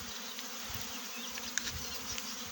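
Honeybees swarming on a tree buzz in a dense, continuous hum, close and steady, with brief sharper flickers of individual bees passing near.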